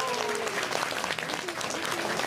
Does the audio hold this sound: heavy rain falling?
no